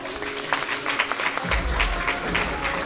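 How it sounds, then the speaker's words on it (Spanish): Applause at a surprise gift-opening, a short burst of clapping from a small group of people that lasts about three seconds and carries some voices underneath it. "un fuerte aplauso"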